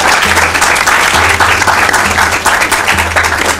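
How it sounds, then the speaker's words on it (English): An audience at a junior high school quiz contest applauds the two competing school teams, steady dense clapping filling the whole stretch at close range with no speech over it. "Let's clap for them."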